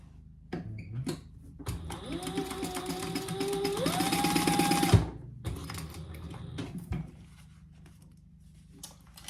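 A sewing machine stitches fabric for a tote bag, a close whirring run of a few seconds that rises in speed midway, framed by softer clicks and handling noises.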